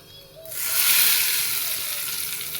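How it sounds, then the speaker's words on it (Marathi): A sudden burst of loud sizzling as spices and dried red chillies hit hot oil for tempering, swelling quickly then hissing on steadily. "असं चुरमन वाजली ना आपली फोडणी परफेक्ट बसली असं समजायचं आपण"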